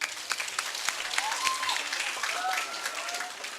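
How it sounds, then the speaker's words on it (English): School students at CA Moore applaud during a Miami Dolphins visit, a dense burst of clapping with a few cheers and whistles throughout, with voices mixed in. "Give them a round of applause."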